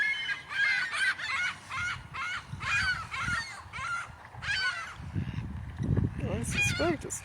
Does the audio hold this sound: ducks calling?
yes